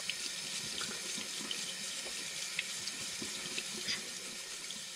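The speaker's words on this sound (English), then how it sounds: "Just give it a quick rinse." Juicer parts rinsed under a running kitchen tap, a steady broadband splash of water into a sink with small clinks of parts, continuous and close, no talking.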